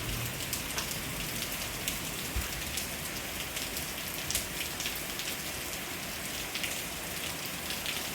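Steady rain falling and pattering on surfaces, a dense, even wash of drops with scattered closer taps, no voices heard.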